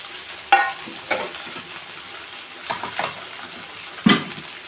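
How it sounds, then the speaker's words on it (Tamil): Vermicelli (semiya) stirred and mixed with turmeric in a frying pan for semiya khichdi: a soft steady sizzle broken by a few scraping stirs, near and alone. "இப்போ இந்த சேமியாவை போட்டு"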